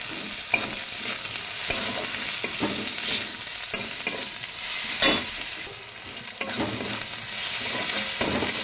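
Sliced onions fry in a pan with a continuous close sizzle, broken by repeated scraping strokes of a spoon stirring them; no one speaks.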